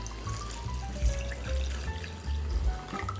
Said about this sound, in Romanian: Am pentru început, peste untul din cratiță, că de-aia am ales o cratiță mai mare, voi pune laptele.